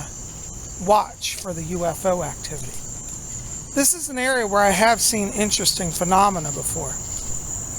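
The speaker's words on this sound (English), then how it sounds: "I can hear the birds and the crickets tonight." Crickets chirping at night on an outdoor walk, a steady high continuous trill close by running throughout, under someone talking.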